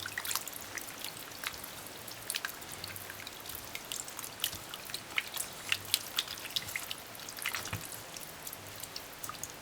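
A turkey neck being rinsed in water with a tablespoon of white vinegar: continuous splashing and dripping, with irregular sharp trickles and pours, close and moderately loud, no talk.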